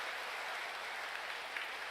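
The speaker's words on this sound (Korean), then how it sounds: "우리 강남 8교구에서 다시 한번 이렇게 큰 영광의 박수 올려드립니다" Church congregation applauding in a Gangnam parish gathering, a steady dense wash of clapping with no breaks, moderately distant and even throughout.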